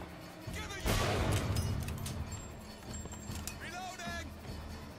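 Gunfire in the video game Bioshock Infinite: a loud shot bursts in near the one-second mark and rings out over a busy game soundscape, with scattered lighter effects and a voice talking through it.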